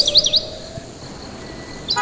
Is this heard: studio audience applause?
no